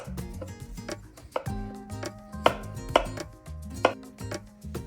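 A knife cuts romaine lettuce into half-centimeter slices on a board, a run of crisp thuds and crunches at an uneven pace, close and fairly quiet, a few strokes landing louder than the rest.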